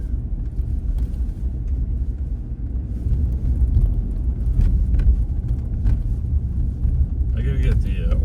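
A pickup truck drives along upper Marks Street, its engine giving a steady, loud, low rumble throughout, with road noise and a voice talking over it.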